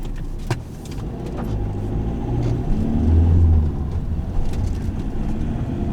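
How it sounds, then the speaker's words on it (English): A Ford Transit van drives along a road, its engine a steady low rumble with rising and falling tones as it moves through traffic, close and continuous with no talk. "I do love driving the van. Being a transit, you do sit up a bit higher than a car"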